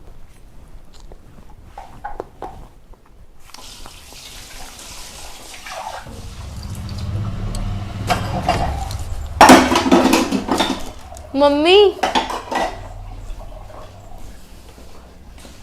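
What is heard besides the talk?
washing breakfast dishes with water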